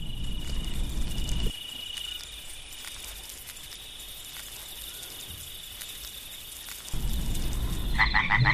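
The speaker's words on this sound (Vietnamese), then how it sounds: "Bên ao, những con ếch bắt đầu kêu." Frogs croak by a pond in the Amazon at evening, a dense, loud chorus of rapid calls over a constant insect drone, thinning to a quieter stretch before swelling again.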